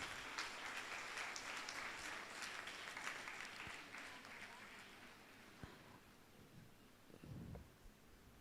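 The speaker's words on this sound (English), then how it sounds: "Please give a big round of applause." An audience applauds at a nursing convocation ceremony for a first batch of B.Sc nursing graduates: steady, dense clapping fills the hall for about five seconds, then thins out into scattered claps and rustling.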